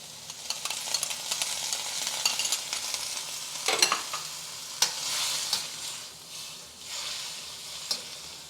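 Sauce hits a hot wok of squid red rice stir fry on high heat, crackling and sizzling steadily with sharp pops and stirring scrapes, loud and close with no talk.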